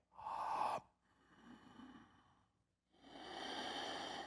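A person breathes in through an open mouth: a sharp, loud gasp-like inhale, then a softer, quieter continuation of the breath, a brief pause and another long airy inhale, all close and without talking.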